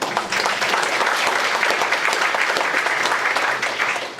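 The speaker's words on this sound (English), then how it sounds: "Everybody give them applause." Thick, continuous applause from a room of guests at an interfaith iftar dinner, many hands clapping at once, loud and sustained before easing slightly at the end.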